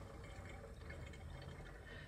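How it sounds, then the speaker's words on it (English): AdBlue diesel exhaust fluid pouring quickly into the filler of a VW or Audi car, a steady, faint liquid gush and gurgle running continuously without pause. "I will go ahead and pour all of it in. It's going pretty fast."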